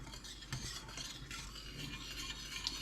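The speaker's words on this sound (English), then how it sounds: "1 cup of grits. Stir constantly" A spoon stirring grits in a pot for Cajun shrimp and cheesy grits: faint, continuous scraping and rubbing with a few slightly sharper strokes, quiet and close, with no talking.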